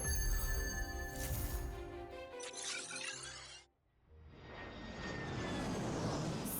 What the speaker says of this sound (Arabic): هل هذه طائرة شحن بحق الجحيم؟